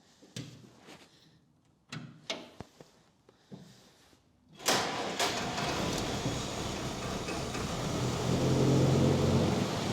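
A 6-volt Willys CJ2A jeep: a few clunks and clicks, then the engine catches around halfway and settles into a steady, rough idle that rises slightly in loudness toward the end.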